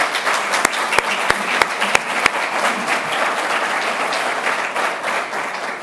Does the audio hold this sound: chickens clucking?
no